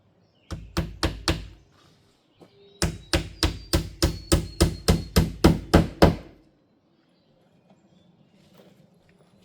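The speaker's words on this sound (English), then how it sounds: "I'll just nail it on and go to the next one" Hammer blows drive nails into wood while building a wood stove room on a camper: a quick burst of four close, loud knocks, a short pause, then a steady run of about a dozen evenly spaced strikes, followed by near silence.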